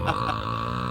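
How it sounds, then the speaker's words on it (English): A single drawn-out belch, fairly loud and close, lasting about a second with a buzzing, tonal quality. "We're belching."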